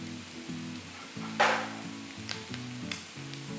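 Basmati rice is tossed in a hot pan for roadside-style chicken fried rice, a sizzling fry with stirring scrapes and one sharp burst of sizzle, a steady hum running underneath.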